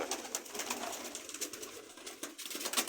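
Soft pigeon cooing with fluttery bird sounds, close by and continuous, over a busy background murmur.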